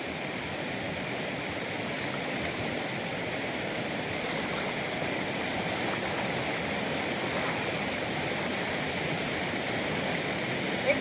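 Cold, foamy water in a stream rushes steadily, a constant broad gurgling flow at moderate level with no voices.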